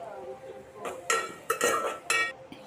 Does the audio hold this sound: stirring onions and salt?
yes